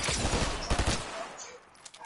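Video game gunfire, a quick loud burst of several rapid shots followed by a fading tail and a couple of faint pops.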